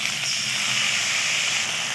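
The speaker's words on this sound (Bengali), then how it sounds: "এবার এটাকে আমি ভালো করে কিছুক্ষণ কষাতে থাকবো।" A spice paste with tomato, onion and sugar is sautéed in oil, making an even, unbroken hissing sizzle close up for the whole moment.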